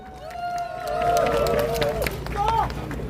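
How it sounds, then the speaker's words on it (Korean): A large rally crowd outside Korea's Constitutional Court claps and cheers, with scattered hand claps under a rising swell of voices and whoops, loud and close. "박수소리가 이 정도면 되겠습니까?"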